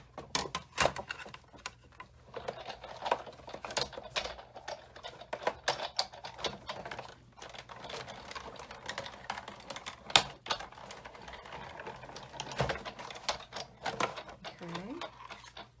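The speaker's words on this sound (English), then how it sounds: "I'm going to emboss my front piece, and I'm going to do that twice" An embossing machine cranks a card front piece through, giving a close run of rapid clicking, ratcheting mechanical ticks that continue steadily with brief pauses.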